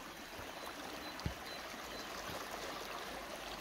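A mountain brook in the Emmental flows with a steady, moderately close broadband rush and trickle, continuous throughout, with one brief knock partway through.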